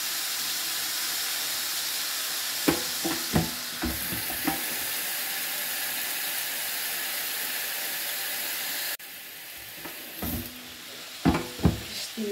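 Beyti kebab fries in a pan with a continuous loud sizzle and hiss, broken by a few sharp knocks and utensil clatters, and no voices heard.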